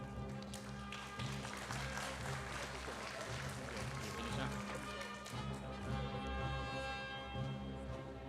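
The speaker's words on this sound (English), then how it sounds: "Let's give a round of applause as an encouragement for our pre-junior." An audience at a Boys' Brigade company awards day in Kuala Lumpur claps for a young junior award candidate, a soft, distant patter of applause under a steady low hum and some background voices.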